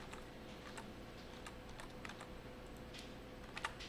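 Computer keyboard keys are pressed in scattered, light clicks and taps over a steady, faint background hiss, fairly quiet and close, with no voices.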